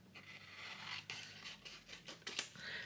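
Scissors snipping through white fabric at a dressmaker's table, a steady run of close, crisp cutting and scraping strokes with no talking.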